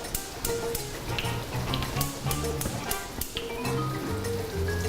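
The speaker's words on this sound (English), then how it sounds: "we're gonna be slowly adding in our stock" Hot stock is ladled into a hot pan and sizzles with a steady crackling hiss and scattered pops, heard close up under background music.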